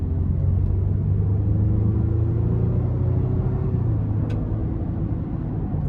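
A 2024 Honda Pilot Trailsport AWD with a V6 and 10-speed transmission accelerating in sport mode, heard from inside the cabin as a steady low engine rumble and road drone with a slight rise in pitch.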